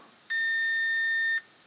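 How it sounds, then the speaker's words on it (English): A burned EB832 controller emits a single steady electronic beep during a short test with a power resistor, lasting about a second against a quiet background. "you can hear the beep. That means that the controller is gone."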